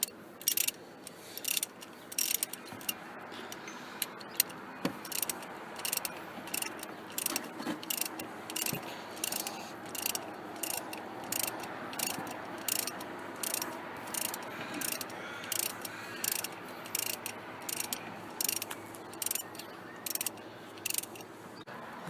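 A ratchet wrench clicks in steady, repeated bursts while undoing bolts on a Holden Commodore water pump, the close metallic pawl ticking running on and off throughout with no talk.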